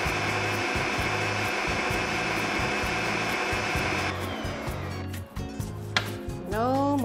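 A Bosch MaxxiMUM kitchen machine shreds peppers through its fine shredding disc, giving a steady, loud motor whir with a rhythmic chopping pulse. The motor drops in pitch and winds down toward the end.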